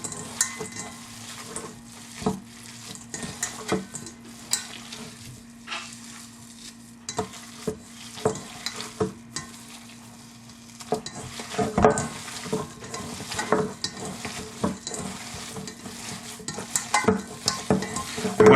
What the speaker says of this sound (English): we're going to just mush this up. Your hands work best for this.